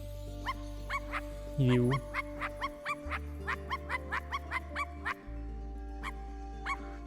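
A man repeatedly imitates a dog's bark while playing I Am Dead: a run of short, evenly spaced yaps over a steady low hum, with a brief spoken question partway through.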